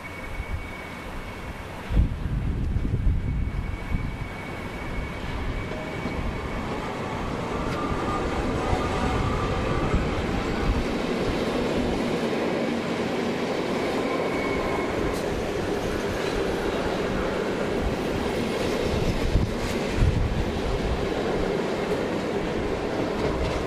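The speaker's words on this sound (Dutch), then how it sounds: "Na een korte stop gaat deze trein weer verder." A train pulls away from a short stop at Sittard station in the Netherlands, heading toward Heerlen. A steady, loud rumble of rolling stock builds and holds, with faint wheel clatter and wind buffeting the microphone.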